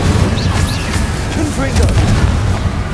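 An Incendio fire spell goes off in Hogwarts Legacy, a dense roaring burst of flame with booming low rumble and crackling bursts layered over game effects, loud and sustained for about three seconds.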